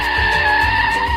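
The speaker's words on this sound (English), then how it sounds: "I heard the loud screeching of tires." Car tires screech loudly and steadily on pavement in one sustained, close skid with a heavy engine rumble underneath.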